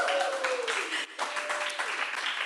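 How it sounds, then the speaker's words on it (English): A small audience at a spoken-word poetry venue in Bangkok bursts into applause for a poet, with bright whoops and voices mixed into the close, lively clapping before it briefly dips and picks up again. "Can I get another applause just to make me feel good?"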